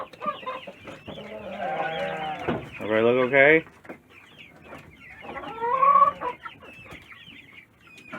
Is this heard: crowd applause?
no